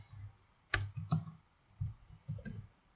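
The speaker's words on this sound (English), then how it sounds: "we're going to go ahead and type in the PHP artisan serve command" A terminal command is typed on a computer keyboard with a handful of soft, separate key clicks and short pauses between them. The sound is quiet and close, with no talking.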